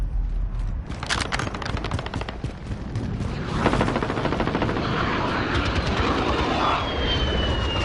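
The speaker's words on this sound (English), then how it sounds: "Enemy VTOL in the AO." An enemy VTOL aircraft flies in a video game battle zone, a loud, close roaring engine drone that builds and sweeps past, with bursts of rapid gunfire layered over it and no talking.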